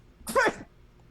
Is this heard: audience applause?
no